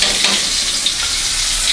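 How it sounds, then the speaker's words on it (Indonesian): Spice paste for balado chicken wings frying in a pan, a loud, close, continuous sizzle with light stirring scrapes and no voices. "Nah, ini bumbunya udah goreng."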